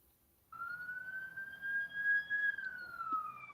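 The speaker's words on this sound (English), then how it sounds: "Well, I hear a siren." A siren wails from the distance, one long rising and slowly falling tone that starts abruptly and holds steady, with faint low rumble beneath.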